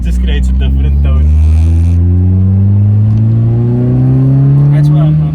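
A 1999 Toyota Altezza with a 3S-GE engine revs up strongly as its VVT kicks in, the loud close engine note climbing steadily in pitch over several seconds, with brief talk at the start.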